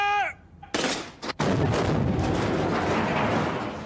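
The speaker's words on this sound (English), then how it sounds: "my men have just put three high explosive grenades into a confined area" Soldiers in a TV drama fire high explosive grenades into a confined area: a loud blast and burst of gunfire, then a sustained heavy roar after a short electronic whine, close and dominant with no talking.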